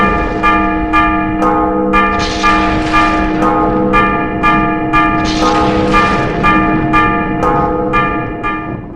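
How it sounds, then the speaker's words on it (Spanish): A church bell rings in the rogation tone, with loud, rhythmic strikes close together and each ringing tone overlapping the next, alone without voices. "dar sonido de la campana en el tono de rogativa"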